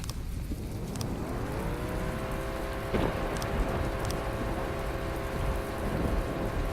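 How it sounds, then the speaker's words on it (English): An engine running in the video game From The Depths makes a steady, droning harmonic hum that holds level throughout, layered over constant broadband noise and with no talk. "You'll notice I have very little power now, but you can hear the engine."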